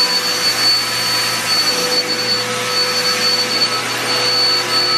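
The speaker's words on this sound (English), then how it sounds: "I'm gonna go vacuum my room" A household vacuum cleaner runs loud and close, a steady broadband roar with a high whine that holds level for the whole stretch, no voices over it.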